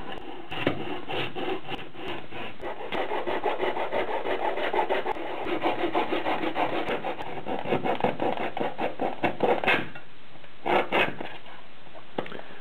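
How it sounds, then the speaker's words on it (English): Close, rhythmic rasping of a saw cutting back and forth through a hard ridge of epoxy on a camera, steady strokes with brief pauses near the end. "to saw back this ridge of epoxy"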